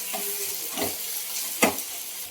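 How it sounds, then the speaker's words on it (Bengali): Bay leaf, dried chilli and cumin seeds hit hot oil for a tempering, giving soft continuous sizzling with a few sharper crackling bursts and stirring close by. "ফোড়ন দিয়ে দিচ্ছি তেজপাতা, শুকনো লঙ্কা, জিরে ফোড়ন"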